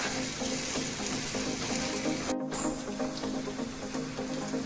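Garlic tempering (tadka) sizzling in hot oil for dhaba-style whole masoor lentil curry, a steady close broadband crackle with a brief cut partway through, no talking.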